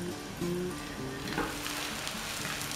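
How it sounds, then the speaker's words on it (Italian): Fried brains sizzle in a pan of hot oil, a steady close crackle and hiss with the heat already switched off, with no talk. "Le nostre cervelline sono pronte, stanno ancora sfrigolando ma io ho già spento"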